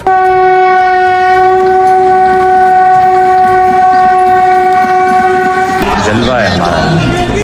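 A train sounds its horn in one long, very loud sustained blast, then the horn cuts off and the rumble of the passing train follows.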